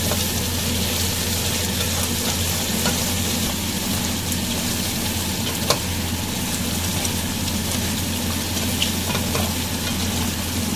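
Chicken frying in a karahi with black pepper while being stirred, a loud continuous sizzle with scraping stir strokes throughout and an occasional sharp clink, no talking.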